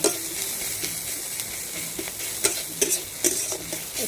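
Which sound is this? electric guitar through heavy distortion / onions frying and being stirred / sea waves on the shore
onions frying and being stirred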